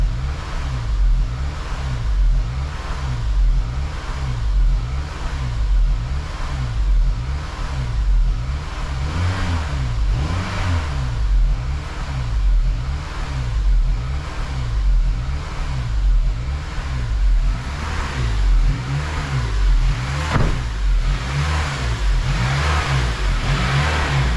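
A Honda Element engine idling roughly with an idle air control fault, its note surging and dipping in a steady repeating rhythm, loud and close, with no talk.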